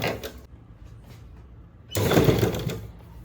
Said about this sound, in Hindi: अब यहाँ से सिलना शुरू करेंगे।